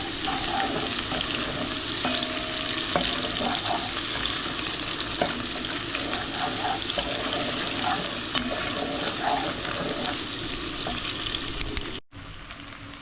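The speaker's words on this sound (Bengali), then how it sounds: "এই তো আদা এবং ঘিটা দিয়ে এখন চালটাকে ভেজে নেব।" Rice fries with ginger and ghee in a pot, a dense continuous sizzle with stirring scrapes for most of the stretch, then a sudden cut near the end that leaves a quieter hiss, no speech.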